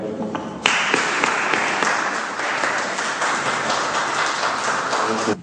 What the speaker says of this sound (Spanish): reiteramos ese afecto con un fuerte aplauso